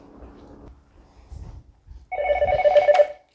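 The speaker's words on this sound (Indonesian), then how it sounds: "Aduh, telepon ya Allah." A telephone rings with a bright electronic trill for about a second after some quiet low rustling, close and clear.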